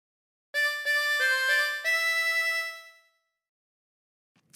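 A 24-hole tremolo harmonica plays a short phrase of Ampar Ampar Pisang: four quick reedy notes, then one longer held note, close and clear with a wavering tremolo, with no voice over it.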